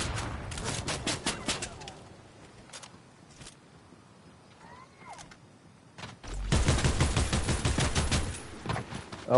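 Fortnite gunfire comes from two sides at once: a burst of rapid shots, a quieter stretch with scattered single cracks, then a long, loud volley of rapid fire near the end.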